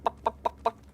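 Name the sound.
voice imitating a turkey in Garry's Mod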